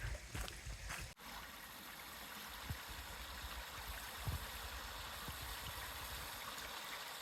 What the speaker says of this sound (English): it seems like we're coming up to a waterfall where there is a little bit of a dam